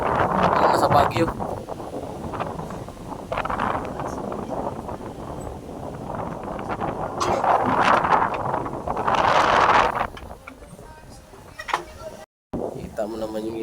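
Wind buffets the microphone outdoors, giving a rough, fluctuating rumble while people chat nearby.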